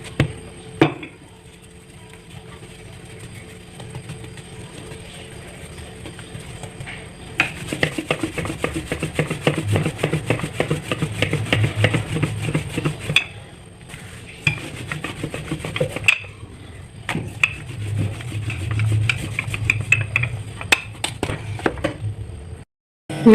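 A rolling pin works flour-dusted paratha dough for a seekh kabab paratha roll, making close, rhythmic rubbing and rasping strokes in long bursts broken by brief pauses and a few soft knocks.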